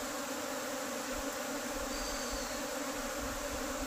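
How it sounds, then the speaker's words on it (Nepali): A swarm of honeybees gives a dense, steady buzz that fills the space, loud and constant with no pauses, holding at the same level throughout without voices. "मौरी निकै रहेछ हजुर"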